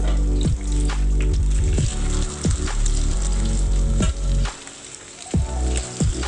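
Rava-coated fish pieces sizzle and crackle steadily in a hot frying pan, with a dense continuous hiss broken by a few sharper clatters as pieces are turned, close and fairly loud.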